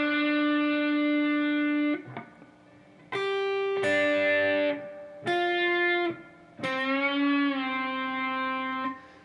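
Slow electric guitar riff played with light distortion, four phrases of sustained chords and bends separated by brief gaps, close and clear with no talking.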